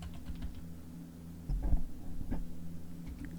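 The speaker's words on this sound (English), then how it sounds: "now from the search, we're going to type in Zigbee" Keystrokes typing a search on a computer keyboard, a soft steady patter of close taps over a low hum, with a couple of heavier bursts midway.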